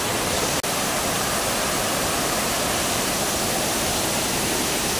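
Bantakay Falls in Sta. Catalina pours in a steady, loud, full-bodied roar of rushing water, constant throughout with no talking, broken only by one tiny dropout near the start.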